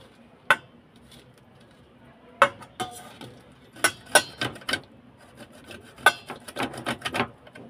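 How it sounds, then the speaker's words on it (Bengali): Indian olives (jalpai) rubbed against a metal grater, a series of sharp scraping strokes in irregular clusters, close and fairly crisp, with quiet pauses between them. "গ্রেটারের সাহায্যে জলপাই গ্রেট করে নেব।"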